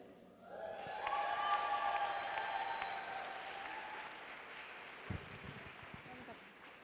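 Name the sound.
audience applause at a fashion show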